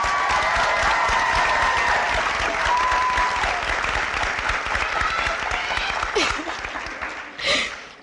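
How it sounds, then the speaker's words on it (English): Loud, dense applause and scattered cheers from friends and family at a 2019 East Hartford CIBA graduation ceremony, sustained clapping that fades out near the end. "Friends and family, let's give a big round of applause for my class of 2019."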